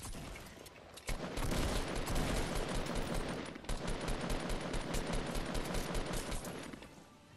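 Rapid, sustained automatic gunfire in Fortnite, dense and loud with a short pause before it starts and a brief dip midway, no talking.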